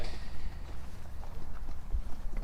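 Horses at an artisanal mezcal distillery in Oaxaca clip-clop on the ground in an irregular walking rhythm, nearby but softened within continuous outdoor background noise.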